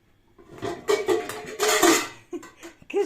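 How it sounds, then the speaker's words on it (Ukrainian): Metal pots and pans clank and scrape as they are pulled out of a kitchen cupboard, several irregular loud clatters and knocks close by, with short pauses between them. "вже достаю твої каструлі."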